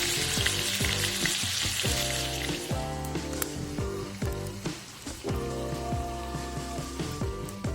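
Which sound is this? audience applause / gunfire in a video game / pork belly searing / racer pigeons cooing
pork belly searing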